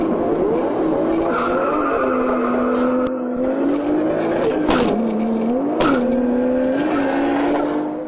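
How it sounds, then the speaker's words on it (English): A turbocharged Toyota Supra race car launches with a loud squeal of tires, its engine droning and wavering as it bogs down, sustained and close for several seconds without talk. "The black car launches better but bogs down badly."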